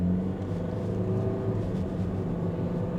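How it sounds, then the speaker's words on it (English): Hyundai i30 with an automatic gearbox driving under load, a steady low engine drone with a faint rising tone as the transmission shifts, heard from inside the car. "The automatic gearbox seems to be working all right."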